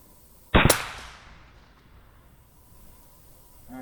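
A single sharp, loud rifle report from a .308 Ruger American Gen II, fired cold-bore at an outdoor range, followed by a fading echo and quiet.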